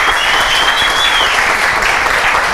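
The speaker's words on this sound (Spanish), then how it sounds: "Un aplauso para Yesenia." Studio audience applauds a guest on a live Spanish-language talk show, a steady dense clapping that fills the whole short stretch at close range.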